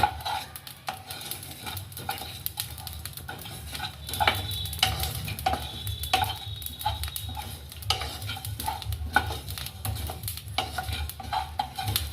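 Cumin and coriander fry in oil that sizzles steadily in a pan while a utensil stirs and scrapes against metal, with occasional clinks; no talking.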